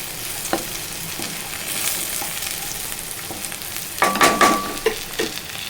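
Ivy gourd frying in a pan with curry leaves, stirred throughout: a steady, close sizzle with louder bursts of stirring clatter and scraping toward the end, no voices.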